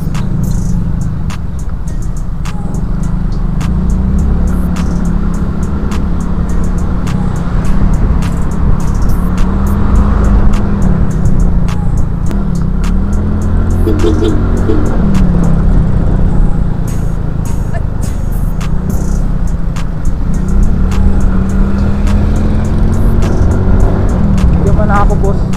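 Road traffic in a town center, with cars and other vehicles rolling past nearby: a constant loud engine and tire rumble with swelling passes throughout, and a voice talking over it.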